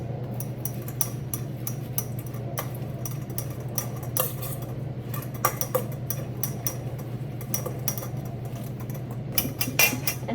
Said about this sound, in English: I'm going to put my ranch dressing on it and then toss it around.